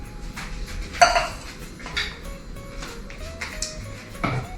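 A small spatula scraping fudge mixture out of a bowl or pan, with scattered metallic clinks and taps, a brief high ring, and quieter scraping between hits, close by.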